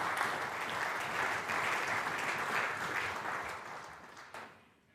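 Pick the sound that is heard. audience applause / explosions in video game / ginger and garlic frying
audience applause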